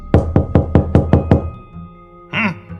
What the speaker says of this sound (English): knocks on the door with lots of force